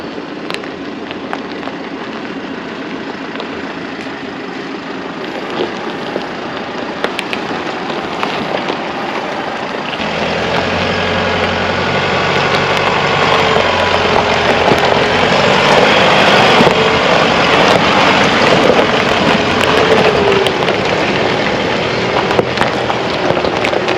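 A 4WD engine labours up a rutted, multi-stage hill climb in the Bendleby Ranges, a steady droning rumble that grows louder and rougher partway through, with wind buffeting the microphone and no talk.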